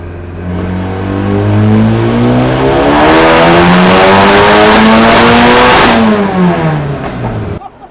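A turbocharged K24 engine in a Miata pulls at full throttle on a dyno, a very loud, close rising howl that climbs steadily through the revs with turbo whine, then backs off and cuts to silence at the end.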